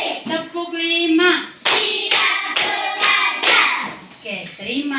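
Schoolchildren clap together in a steady beat, four or five strong claps in a row, mixed with sung or chanted children's voices around them.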